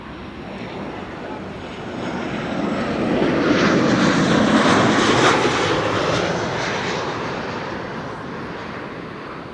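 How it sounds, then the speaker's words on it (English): A KLM airliner arriving from Paris passes over Amsterdam Schiphol Airport, its engine roar building to a loud peak midway and then slowly fading, with no talk. "KLM flight 1406 arriving from Paris."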